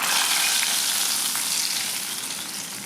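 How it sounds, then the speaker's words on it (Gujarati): Hot tempering of cumin and dried red chilli poured into a pot of sambar, a loud broad sizzle that hisses steadily close by and slowly fades over a few seconds, no voices. "તૈયાર કરેલા વઘારને આપણે સાંભારમાં ઉમેરી દેવાનો."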